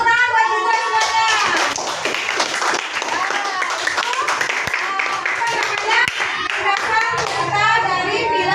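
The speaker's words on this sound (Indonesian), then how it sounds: "tepuk tangan buat Citra semuanya" Classroom children clapping together for a classmate during a religious studies lesson, a dense sustained patter of many small hands, with kids' voices and chatter mixed throughout.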